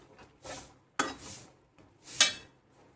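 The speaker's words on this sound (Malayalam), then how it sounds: "അരപ്പ് ഇട്ട് കൊടുത്ത് നന്നായിട്ട് വഴറ്റിയെടുക്കണം" Spiced ground paste for a fish curry stirred and sautéing in hot oil, a few separate scraping stirs with soft sizzle and a sharper utensil clink near the end, close and moderately quiet.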